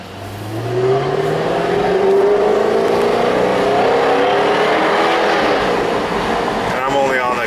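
A 2014 Jaguar F-Type V8S with its 495-horsepower V8 downshifts to first and accelerates through a right turn, the engine note climbing in a rising, loud roar that levels into a sustained growl, with a few crackles at the end.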